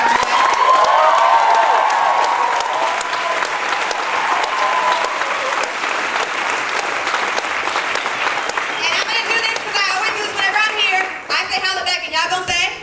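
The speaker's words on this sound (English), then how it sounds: "Can we give one more round of applause to Dr. West?" A large audience gives a sustained round of applause and cheering for a guest speaker at an evening talk, dense clapping throughout with shouts and voices rising toward the end.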